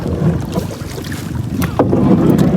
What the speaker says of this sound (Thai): นี่ต้องนั่งเรือนะคะเรา จะเห็นไม้พาย นี่เรือ เป็นเรือพลาสติก